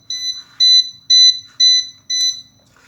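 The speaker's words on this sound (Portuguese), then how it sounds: "ele vai colocar L de low, né, e vai tocar o bip" A W2809 digital thermostat sounds its alarm: five loud, evenly spaced electronic beeps, each about a third of a second, in a quiet room with no talking.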